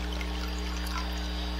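Water poured from a container into a Ziploc plastic bag, a steady close trickle and splash lasting throughout over a constant low electrical hum.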